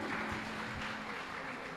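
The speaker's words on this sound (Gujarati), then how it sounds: "જોરદાર તાળીઓ એ લોકો માટે પણ" Audience applause at a school hall concert of Gujarati light music, a steady wash of clapping that stays moderately faint and even for a couple of seconds.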